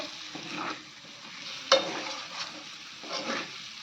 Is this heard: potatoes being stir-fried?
yes